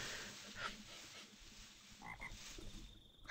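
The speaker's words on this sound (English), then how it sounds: "I hear you, frogs." Frogs croak in a video game, a short run of faint, repeated calls set against a busy background of game sound, with no talking.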